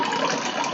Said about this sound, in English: I'm going to go over our sink and I'm going to strain.